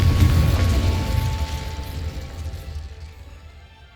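A fiery Confringo spell blast from Hogwarts Legacy bursts loudly at the start as a deep, booming explosion, then rumbles and crackles away over a few seconds, with no voices over it.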